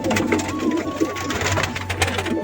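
Pigeons in an indoor room, soft cooing and fluttering with scattered shuffles and small knocks, a steady low hum beneath and a faint whistle-like tone drifting through.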